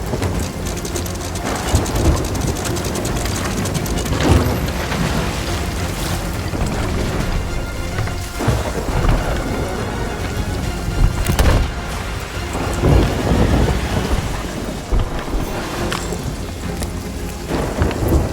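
Steady heavy rain in a stormy Sea of Thieves sea scene, with rolling thunder booming now and then and sharp lightning cracks standing out over the downpour.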